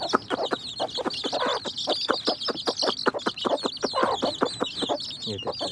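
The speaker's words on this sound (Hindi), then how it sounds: "ये ऊपर वाली मादी के चूज़े हैं जी।" A crowd of young chicks from a pet bird's brood peep and cheep in a dense, steady chorus, close and loud, with rapid overlapping calls throughout.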